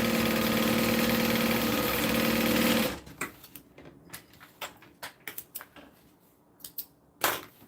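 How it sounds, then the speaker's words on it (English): A sewing machine runs in one loud, steady burst for about three seconds while stitching two fabric pieces together, then stops, leaving scattered close clicks and fabric handling. "now I'm just going to sew these two pieces together."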